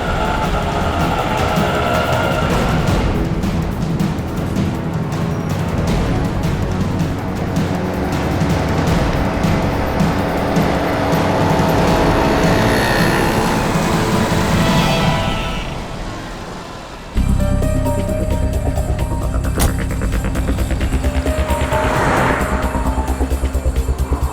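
A car drives along steadily, following another car; a loud, continuous engine and road rumble runs throughout, with a brief dip and a shift in tone near the end.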